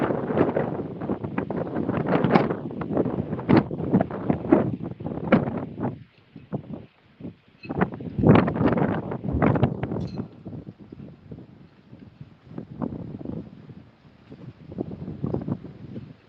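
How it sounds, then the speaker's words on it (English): Gusty wind buffets the microphone in irregular bursts, rising and dropping with a brief lull midway, outdoors with a rough rumbling texture. "So it's still very windy out here."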